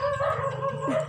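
A chicken clucking and calling briefly up close, a short warbling vocal burst with a rising squawk at the end, no talking.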